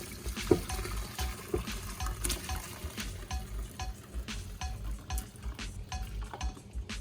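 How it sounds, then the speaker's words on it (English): Fish tea soup strained through a metal strainer in a kitchen, giving a steady wet trickle broken by light clinks and scrapes of utensil against the pot. "Okay, so as we strain this"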